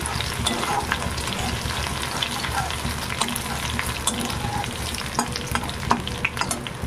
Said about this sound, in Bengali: রসুন ছেঁচে নিয়েছি, রসুন দিয়ে দিলাম। রসুনটাও হালকা ভেজে নেব।